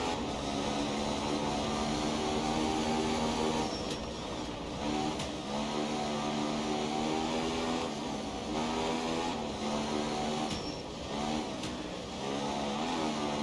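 A Ford Escort Group 4 rally car in Assetto Corsa holds a loud, steady engine drone close by on a night stage in Kenya. The pitch rises and falls with each gearshift and throttle change, and no one speaks.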